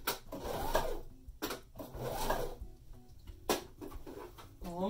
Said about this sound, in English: You just literally sew along those lines.